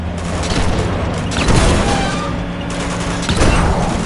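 Gunfire from the video game Uncharted 2 crackles in bursts of rapid shots and booming impacts, loud and dense over a steady low hum.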